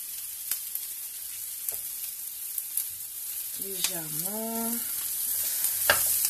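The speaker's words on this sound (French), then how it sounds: "Donc on va laisser tout ça se dorer légèrement." Cassava sticks and vegetables fry gently in a pan with a soft, steady sizzle and a few light clicks, heard up close. A brief voice cuts in midway.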